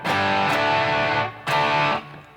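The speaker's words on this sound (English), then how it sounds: "So this is definitely hard overdrive / distortion." A Les Paul electric guitar played through the bridge pickup in standard tuning with hard overdrive distortion, two loud sustained distorted chords ringing one after the other, each cut off abruptly.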